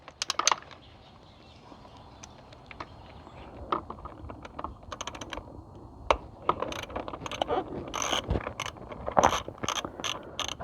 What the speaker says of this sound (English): So let me remove these 8mm bolts.